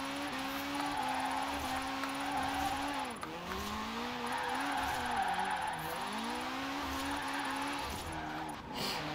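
A drift car in Forza Horizon 4 holds a long, sustained tire squeal over a droning engine, the pitch sagging and recovering several times as the slide continues, fairly quiet throughout.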